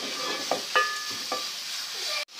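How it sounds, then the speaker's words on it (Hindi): Garlic ginger paste fries in a pan, a steady close sizzle with a few stirring scrapes and clinks, ending with a brief cut before the sizzle resumes. "तकरीबन 2-3 मिनट हो गए हैं लहसुन को भी हमें फ्राई करते हुए"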